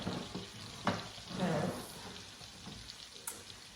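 Keto Tuscan chicken sizzling in a pan over reduced heat, a soft continuous fry with occasional scraping stirs and one louder swell, close and unaccompanied by talk.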